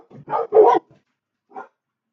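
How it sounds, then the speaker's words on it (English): Dogs barking indoors, a quick cluster of three or four close, loud barks followed by a short pause and one final bark, with quiet between. "Sorry about the dogs."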